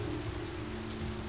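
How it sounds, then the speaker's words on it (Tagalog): Heavy rain pours steadily outside an opened door, a dense, loud hiss of drops on surfaces that stays constant and close with a low rumbling undertone. "Pagbukas namin ng pinto, sinalubong kami ng malakas na ulan."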